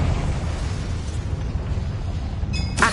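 Confringo spell explosion in Hogwarts Legacy, a loud low rumbling blast that fills the whole moment, followed by a brief bright crackle near the end.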